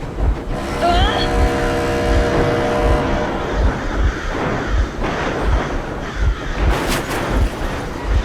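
A vehicle engine runs steadily in the video game Metro Exodus, a continuous low rumble with regular thumps. A voice speaks over it and brief higher tones rise above it.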